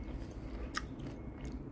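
Someone bites into a crunchy yellow nectarine from Australia, giving two short, crisp crunches close to the mic over a faint background, with no talking.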